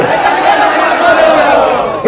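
At a political rally in Jharkhand, a large crowd roars and shouts together in one loud, sustained burst of cheering that lasts about two seconds.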